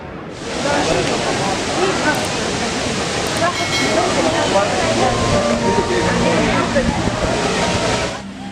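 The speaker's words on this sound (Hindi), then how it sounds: "तीन चादरों पर मुश्तमिल इस हैरत अंगेज़ आबशार में 13 मीटर की बुलंदी से पानी के बहाव को 153 लहरों में नहायत उम्दगी से डलवान की जानिब लाया जाता है।" A large three-tiered waterfall feature at Expo 2020 Dubai, water pouring down from a height of thirteen metres in a loud, continuous roaring rush that swells in and holds steady before fading out at the end.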